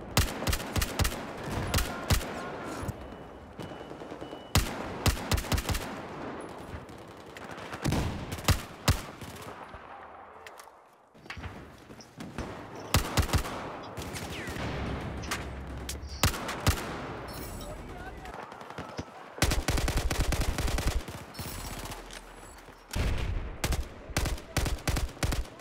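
Battlefield 4 gunfire rings out in loud bursts and single shots, sharp reports and rapid automatic volleys spread across the span, separated by short lulls and a brief near-silent gap midway.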